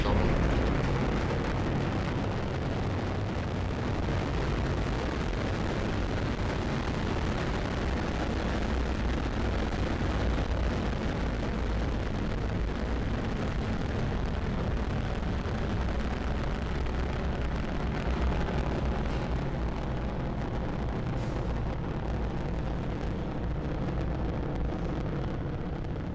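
Rocket first-stage engines roar through launch and ascent on the flight carrying Nusantara Satu, Beresheet and AFRL S5: a loud, deep, broadband rumble that holds steady and unbroken for the whole stretch, with no voices over it.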